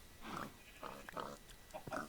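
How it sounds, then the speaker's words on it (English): Pigs in the video game All The Mods 3 give a few short, faint oinks and grunts in a quiet, close-up stretch. "That should give us a little piggy."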